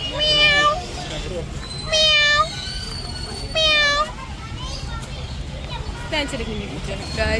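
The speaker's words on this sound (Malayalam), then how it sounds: "ഇതാണ് ബ്രസീലിയൻ പൂച്ച" A Brazilian cat meows loudly and close, about four separate drawn-out cries spaced a second or two apart, over low background noise.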